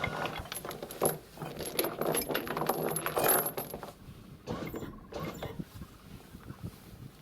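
Sailboat anchor windlass taking up the chain at anchor: metallic clinks, rattles and mechanical clanks, close and uneven, in bursts with a brief pause, no talk.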